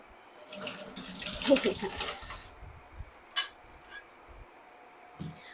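A cucumber is rinsed under a running kitchen tap, with about two seconds of splashing water followed by a few scattered soft knocks and drips.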